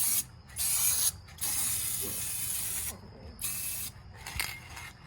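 An aerosol rust coating hisses onto the rusted shock tower of a Cadillac DeVille in several bursts, each a second or so long, with short pauses between them and no talk.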